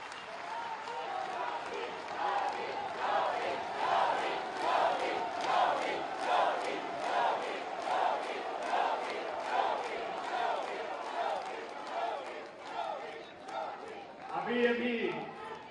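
A large audience at a public meeting in Meerut claps and cheers to welcome Chief Minister Adityanath, the crowd noise swelling in a steady rhythmic pulse with shouting voices mixed in throughout.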